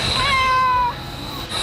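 A remote-controlled haunted house prop plays a recorded cat meow: one loud, drawn-out, tonal cry that slides slightly in pitch and cuts off, over a steady background hum.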